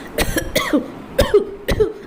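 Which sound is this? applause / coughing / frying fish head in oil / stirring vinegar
coughing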